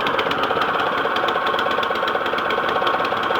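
Small MTD 179cc single-cylinder lawn engine running steadily at a fast, slightly knocking idle, loud and close with a continuous buzzing drone and light rattle throughout.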